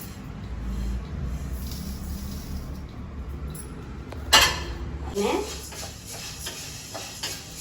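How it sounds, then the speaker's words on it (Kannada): Rice roasting in a pan over medium heat for homemade spice powder, stirred with a metal utensil that scrapes and clinks against the pan, with a sharp clank partway through and faint sizzling. "ಅಕ್ಕಿ ಹುರಿತಾ ಇದ್ದೀನಿ, ನೋಡ್ತಾ ಇರ್ಬೋದು"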